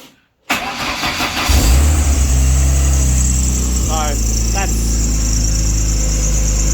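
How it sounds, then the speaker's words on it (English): A Ford Escort Mk2 engine running lean cranks briefly, catches and settles into a steady mid-pitched idle that runs loud and close to the end. "I'll quickly start the engine up"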